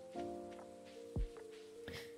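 Rain falling in the farming video game Stardew Valley, a faint steady patter behind quiet game tones and a few soft thuds, with no talking.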